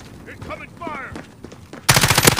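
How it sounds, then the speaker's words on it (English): In a battle royale video game, quieter effects and a voice give way to a loud, dense burst of rapid automatic gunfire in the final half second. "Incoming fire!"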